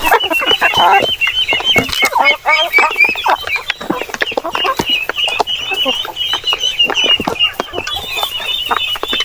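Several chickens cluck continuously and loudly at close range while feeding, with overlapping calls and busy scratching and pecking noises.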